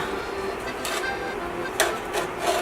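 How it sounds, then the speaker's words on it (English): A utensil scrapes fond off the bottom of a skillet that held browned pork ribs, giving a few short rasping strokes over a steady background sizzle, close and moderately loud. "I'm going to scrape up the fond from the bottom of the skillet"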